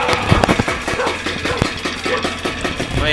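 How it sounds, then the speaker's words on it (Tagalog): Yamaha F1ZR motorcycle engine with a rebuilt carburetor and suspected worn connecting-rod bearings, running noisily close by with an uneven, rattly idle and irregular knocks and clatter, no talk. "Maingay na ang makina"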